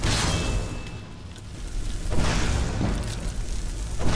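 A fireball trap goes off in Skyrim with a deep rumbling roar of flame. It swells, eases briefly, then surges again as a heavy, continuous burning whoosh.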